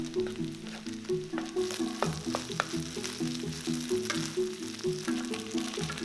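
Garlic beef fried rice sizzles in a hot pan as oyster sauce goes in, with constant frying hiss and rhythmic stirring scrapes and taps over soft background music.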